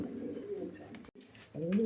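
Low cooing from a pair of young adult white pigeons close by, briefly interrupted, then a louder coo swelling at the end.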